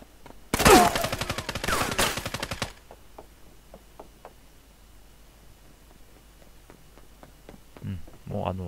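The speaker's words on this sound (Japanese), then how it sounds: "急に撃ってきた。" A sudden burst of rapid automatic gunfire from an enemy in the mobile battle-royale shooter Knives Out rattles loudly for about two seconds, then fades to quiet game ambience with a few faint ticks.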